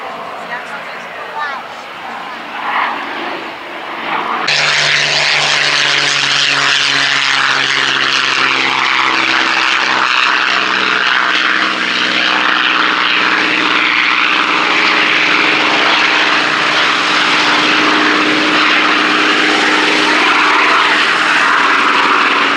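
Piston-engine fighter aircraft pass at the 2017 Duxford Battle of Britain Air Show, their propeller drone swelling suddenly into a loud, sustained roar that drowns out an announcer speaking over the PA.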